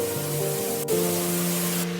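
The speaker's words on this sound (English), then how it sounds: "I removed the cleaning slurry, using our pressurized rinse and capture equipment." Pressurized rinse-and-capture extraction equipment pulls cleaning slurry off a travertine tile floor, a steady loud hiss of spray and suction over a low motor hum, continuous throughout with a brief dip partway.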